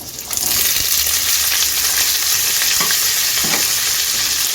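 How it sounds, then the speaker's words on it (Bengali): Onion petals, bell pepper and green capsicum fry in a pan for chilli paneer, giving a loud, steady sizzle with occasional stirring scrapes, no voices. "এখন আমি পেঁয়াজের পাপড়ি বেল পেপার সবুজ ক্যাপসিকাম দিয়ে দিচ্ছি"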